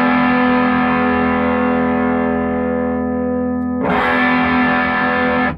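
A 1979 Marshall JMP 2203 MKII amplifier in push-pull mode drives a distorted electric guitar, two loud sustained chords with a brief break between, heavy and thick with no talking.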